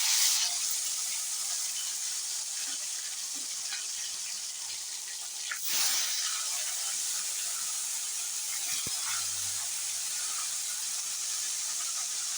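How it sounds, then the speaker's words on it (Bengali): Fish fries in hot oil in a wok, giving a steady close hiss and sizzle with a brief louder surge partway and a soft clunk near the end, without voices. "এখন আমি মাছগুলো সব কড়াইয়ে ভেজে নেব।"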